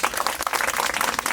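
A crowd at a rally in Agra bursts into steady, dense applause, many hands clapping at once, loud and continuous throughout.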